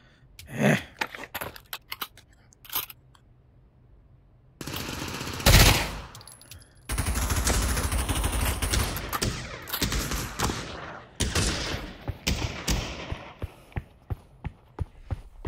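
Uzi submachine guns firing in Pavlov VR, with a few sharp single shots and then long, loud, dense automatic bursts that run almost without a break through the second half.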